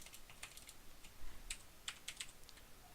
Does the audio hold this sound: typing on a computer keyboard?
yes